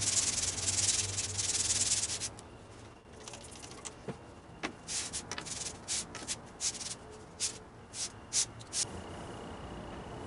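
Sandpaper rubbing over the cast iron body of a century-old Stanley No. 7 hand plane during restoration, a steady close scratchy rasp that breaks into short irregular strokes as the paper is changed and work resumes.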